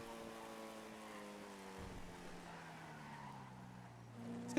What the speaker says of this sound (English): It's got a very raspy engine sound to it.